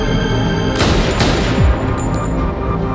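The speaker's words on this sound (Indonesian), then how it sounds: "Setelah Bobley menembakkan pistol itu, ternyata hanya berisi peluru kosong." Pistol shot in a film scene, a single sharp blast followed by a long ringing, echoing decay under continuous loud background sound.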